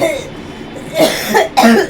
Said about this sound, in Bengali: কাশিটা আছে কাশিটা আছে